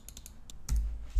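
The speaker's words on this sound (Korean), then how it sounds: "자 더블 클릭하고 컨트롤 C를 눌러서 카피를 한 다음에" Crisp clicks from a computer mouse and keyboard, several quick taps followed by a slightly heavier click, close and fairly quiet against a faint low hum.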